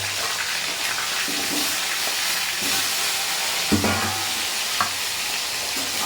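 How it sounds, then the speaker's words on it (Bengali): Washed potatoes sizzle in hot oil in a pan with bay leaves, a steady soft crackling hiss broken by a few scraping stirs of a spatula. "এই যে ধুয়ে রাখা আলুগুলো দিয়ে দেবো, লাল লাল করে ভাজবো।"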